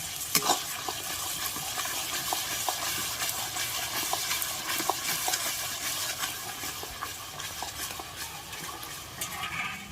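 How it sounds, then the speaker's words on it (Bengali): Spices crackle and sizzle in hot oil as bay leaves, two dried chillies, cardamom and cloves are fried for a dhaba-style chicken kosa, a steady close hiss with scattered sharp pops and stirring scrapes throughout. "মশলাটা একটু ভাজা ভাজা হয়েছে, এর মধ্যে আমি এই যে তেজপাতা দিচ্ছি, 2টো শুকনো লঙ্কা, আর এখানে গরম মশলা, এলাচ আর লবঙ্গ রয়েছে"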